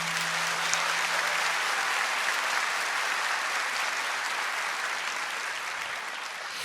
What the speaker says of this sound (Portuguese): Se você entendeu, pode aplaudir mais forte.